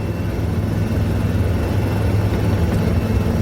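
Helicopter flying over a stormy sea during a cyclone on the coast, a loud, steady low engine and rotor drone that stays constant and close throughout with no speech.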